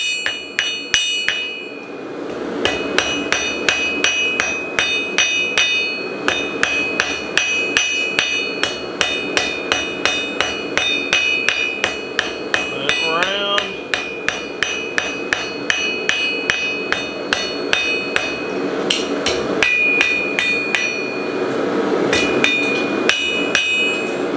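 A blacksmith hammers small steel stock to a taper, striking a ringing anvil in a fast, steady rhythm of sharp metallic blows that continue for the whole stretch, loud and close.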